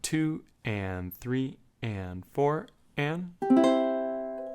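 A voice counts out a beat in time, then a ukulele sounds a single chord from a song that rings out clearly and fades slowly at the end.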